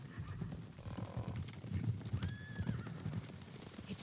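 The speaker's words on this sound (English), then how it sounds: "Horses, they're coming for us." Horses approaching in Ghost of Tsushima, hooves clip-clopping steadily in a close rhythm with a clear whinny partway through, no talk.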